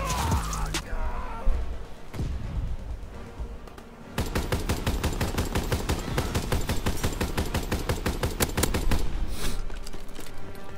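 Gunfire in the online shooter Call of Duty WW2: a few scattered shots and thuds, then a long rapid automatic burst of evenly spaced loud reports dominating the second half.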